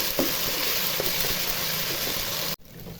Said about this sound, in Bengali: এখন আদা রসুন বাটা দিয়ে দিব। আদা রসুন বাটাটা ভেজে নিব।